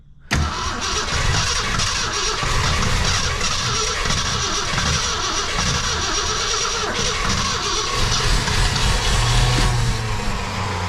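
A 1966 Ford Fairlane with a 390 FE V8 cranks hard and continuously, the starter churning loud and close for about ten seconds with no catch yet.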